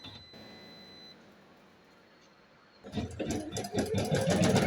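An Usha 550 sewing machine starts up after a quiet stretch with a faint high whine, then runs in a fast, busy, loud mechanical chatter to the end, close by.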